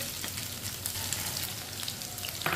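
Finely chopped onion frying with chicken in a pan, a steady soft sizzle and crackle with faint spattering pops, fairly quiet and with no voices.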